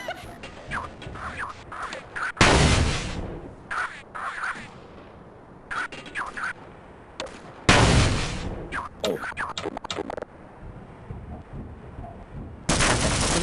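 Grenade blasts in the game Half-Life, three loud broadband bursts spaced several seconds apart, each a sudden heavy boom that rings off, between quieter clicks, shots and game sounds, with soft talk in the gaps.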